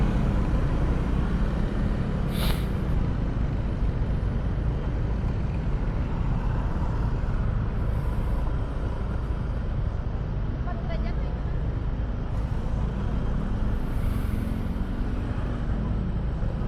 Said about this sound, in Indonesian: Jakarta ini macet emang wajar aja, udah malam minggu.